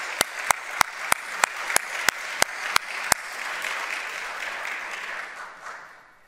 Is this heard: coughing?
no